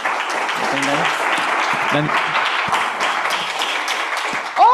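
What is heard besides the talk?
applause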